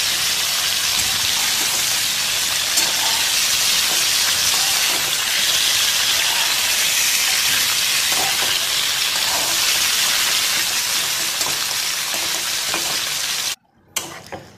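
Black cumin seeds and a blended paste of tomato, ginger and onion frying in hot oil, a loud steady sizzle and hiss that runs unbroken for about thirteen seconds before cutting out abruptly near the end.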